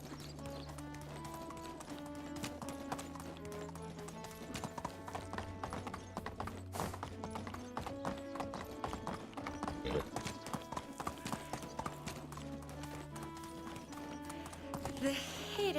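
Horse hooves clip-clop in an even, continuous rhythm in the video game Medieval Dynasty, accompanied by soft music and occasional faint voices.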